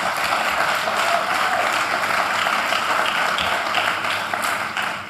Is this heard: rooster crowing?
no